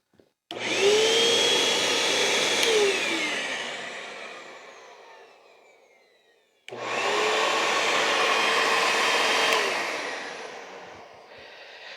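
A Hoover Elite Rewind Plus upright vacuum cleaner's motor whirs up loudly, runs steadily, then winds down; after a pause it starts again and runs for several more seconds, close by.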